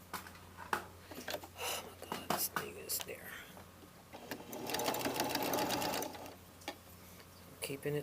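A sewing machine stitches the facing of a jacket welt pocket: short mechanical runs and taps, then a steady, close whirring stretch of rapid stitching lasting about a second, while someone speaks softly nearby.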